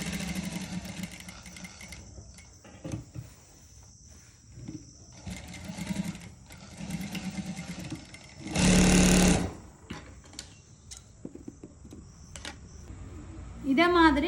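A sewing machine stitches a saree blouse in one short, loud burst of rapid needle chatter lasting under a second, with a person talking before and after it.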